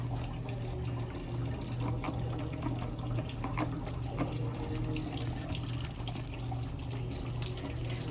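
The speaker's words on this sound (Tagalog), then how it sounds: "Rinse the bar soap and return the soap dish." Bar soap is rinsed under a running faucet at a sink during medical handwashing, with a steady, quiet stream of water splashing continuously throughout.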